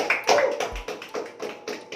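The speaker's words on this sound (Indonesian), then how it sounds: "tepuk tangan buat kelompok 2" Students in a classroom give group 2 a short round of applause: a handful of sharp, rhythmic clap bursts close by over about two seconds, with no talk.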